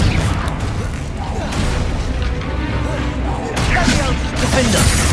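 Confringo fire-blast spells burst repeatedly during a Hogwarts Legacy battle, loud booming impacts with crashing debris layered under dense game action and voices shouting.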